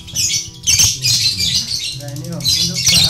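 Lovebirds at a bird farm give sharp, loud squawks and chirpy trills in bursts, close to the microphone, with someone talking underneath.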